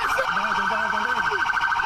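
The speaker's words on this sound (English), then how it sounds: "Turn the sirens off! Turn the siren off!" A police car siren wails close and loud, its rising and falling tone cycling repeatedly during a tense roadside arrest, with shouting voices briefly mixed in.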